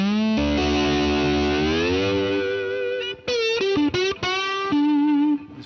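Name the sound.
slide guitar played with Derek Trucks signature slide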